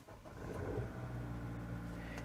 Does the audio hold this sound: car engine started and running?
yes